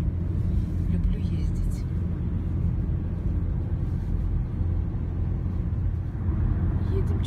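A car drives slowly along a forest road in winter, its low, steady rumble of engine and tyres running throughout at moderate level, with a person talking quietly over it.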